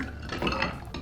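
Ice clattering into a cocktail glass holding Armenian brandy, coffee liqueur and cream for a White Russian variation, a brief dense rattle of cubes close by, lasting about a second.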